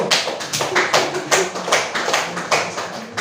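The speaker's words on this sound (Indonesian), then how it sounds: "tepuk tangan dulu" A school class clapping hands together in a classroom, a run of sharp, loud claps in quick irregular bursts, close and with no talking over them.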